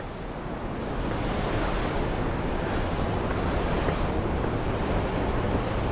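The Saraswati river rushes near Vasudhara Falls at Badrinath in the Uttarakhand mountains, a steady, dense roar of fast water that stays loud and unbroken throughout, with no voices.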